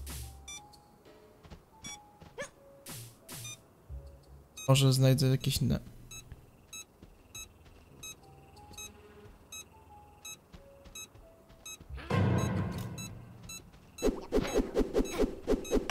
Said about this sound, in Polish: A nie, znowu za blisko tego, więc alarm się uruchamia